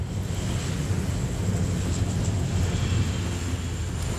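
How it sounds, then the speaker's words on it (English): Pelican firefighting water-bomber planes flying over the Marseille wildfires in 2016, a steady low engine roar with wind rumble, constant and fairly loud, with no voices. "Every 5 or 6 minutes, the planes go back to take on 42 tons of water with each pass"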